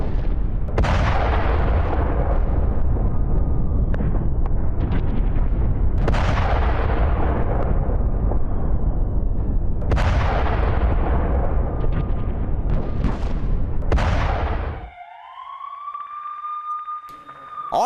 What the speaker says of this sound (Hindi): नुसैरत कैंप में भीषण बमबारी हुई